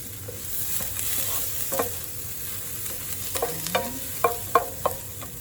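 Garlic fries with a faint, steady sizzle in a pan, broken by soft irregular clicks and scrapes of a utensil stirring, with no talk.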